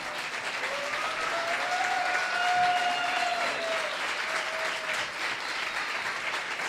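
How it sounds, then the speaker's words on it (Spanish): Audience applause fills a hall at a talk honoring an animal-rights campaigner, a steady dense wash of clapping sustained throughout, with a faint tonal whistle or feedback line riding above it and no speech. "¡Un aplauso!"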